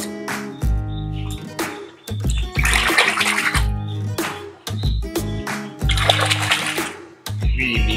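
Water splashes and pours loudly in a washing tub while toy vehicles are cleaned, in uneven surges of sloshing close to the microphone with short quieter gaps between them.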